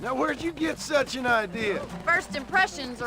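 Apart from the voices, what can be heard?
No distinct noise like a dog, phone or traffic.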